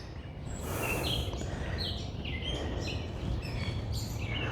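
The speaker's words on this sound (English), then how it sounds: "listen to the birds." Birds chirping and singing outdoors, with repeated high calls over a steady background hiss, fairly faint and continuous with no talking.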